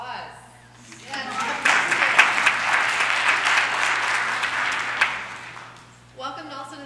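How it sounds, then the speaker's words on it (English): A church congregation at a traditional Sunday worship service breaks into loud, dense applause for the choir, building quickly and holding for several seconds before tapering off as a voice resumes speaking. "Let's give them a round of applause"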